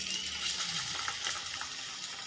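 Cooked mussels in a kitchen are drained of their water, a steady close pour and splash of running liquid that eases slightly toward the end, with no talking over it.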